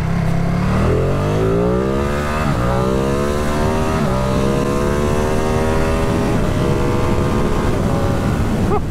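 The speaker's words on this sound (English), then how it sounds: "As I say, that engine loves to be revved." A Ducati Streetfighter V2 motorcycle's engine revs loudly and close, its pitch climbing through several rising sweeps with brief dips between them.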